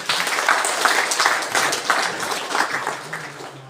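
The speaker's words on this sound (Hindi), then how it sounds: "चलिए एक बार ताली बजाइए।" An audience of young Indo-Tibetan Border Police personnel at a Brahma Kumaris spiritual training session claps together in a steady, close, moderately loud round of applause that lasts several seconds.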